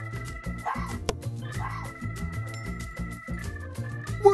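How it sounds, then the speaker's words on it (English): A fox gives a few short, sharp barks in quick succession, close and fairly loud, with no talking around them. "Fox."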